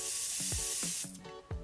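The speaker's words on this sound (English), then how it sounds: "it says you're supposed to spray it, let it sit, and then pat in" Quick bursts from a spray bottle of skincare product hiss close up, several short sprays in quick succession.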